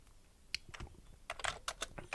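Quiet, close keystrokes on a computer keyboard while programming, irregular clicks sharpening into a quick burst of taps, with no talking.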